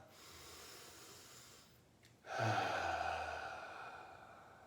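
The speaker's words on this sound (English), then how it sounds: "take a deep foundational breath" A slow, deep breath taken during a calming meditation exercise: a faint, hushed intake followed by a fuller, audible breath that swells and gradually trails off, close and alone with no talking.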